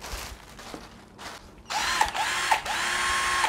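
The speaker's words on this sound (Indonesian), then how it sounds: "Ini adalah cordless drill ya" A Mollar 12-volt cordless drill whirs steadily at close range after a quieter start, its motor pitch dipping briefly a few times as it runs.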